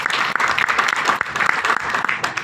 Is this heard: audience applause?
yes